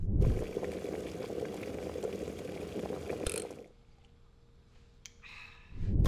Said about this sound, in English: that sounds like boiling water, like a kettle?